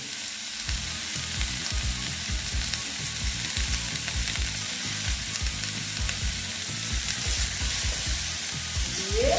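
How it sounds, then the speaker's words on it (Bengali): Sliced snake gourd (chichinga) with salt and turmeric fries in an uncovered pan, giving a steady, close sizzling hiss with repeated low scraping and stirring strokes from a spatula. No one speaks. "নুনটা দিয়ে দিলাম দিয়ে এবার ভেজে নিচ্ছি"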